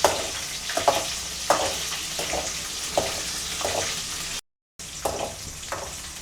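Onions sauté in oil for a Chettinad oil brinjal curry, a steady close sizzle broken by repeated spatula scrapes and stirring bursts, with a brief silent gap partway through.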